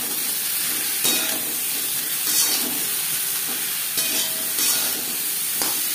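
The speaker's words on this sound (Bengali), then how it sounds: "লবণ হলুদ দিয়ে 3-4 মিনিট আম ভেজে নেব।" Raw mango pieces fry in oil with salt and turmeric, a steady close sizzle with a few louder stirring scrapes spaced through the sound.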